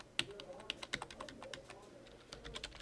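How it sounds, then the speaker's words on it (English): Rapid keystrokes on a computer keyboard while Java constructor code is typed out during a programming lecture, close and crisp with irregular bursts of clicks and short pauses. "I'll go ahead and type out the whole thing."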